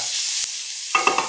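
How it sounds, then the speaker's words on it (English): Steak fried rice being stirred in a hot pan over a steady sizzle, with a few sharp scraping knocks of the utensil near the end. "Throw that in. Good to go here. Mix it up a little bit."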